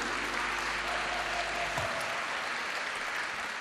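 A festival audience applauds a singer with a full, even patter of many hands, with a low hum beneath the first half.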